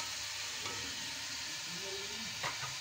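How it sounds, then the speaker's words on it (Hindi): Tomato puree with crushed garlic and ginger frying in a pan for a chicken and potato gosht, giving a steady close sizzle with a few brief stirring scrapes, no talk. "और फिर ऐड करेंगे हम अपनी टमाटो प्योरी, इसी में हमने लहसुन अदरक को क्रश कर लिया है हमने"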